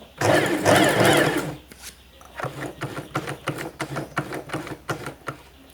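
A portable electric sewing machine stitching a buttonhole gives a loud whirring burst first, then a quick run of regular mechanical clatters as the needle strikes, close and unaccompanied by talk.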